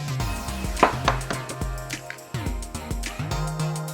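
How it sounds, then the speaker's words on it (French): Two eggs being cracked against a bowl edge and split between shells to separate whites from yolks, a few sharp taps and knocks with short pauses, close and fairly loud over a faint background. "on va séparer le blanc et le jaune de 2 œufs"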